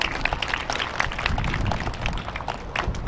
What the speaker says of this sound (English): Please give them a round of applause for being here.